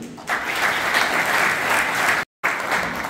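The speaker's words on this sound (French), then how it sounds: "je vais demander à la salle de les applaudir" A conference hall audience at a business forum applauds its regular partners, sustained full applause from a large crowd with a brief cut before it resumes.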